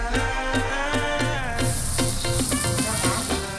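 Ground lemongrass spice paste for a beef dish sizzles loudly as it fries in a wok, a steady crackle heard under background music.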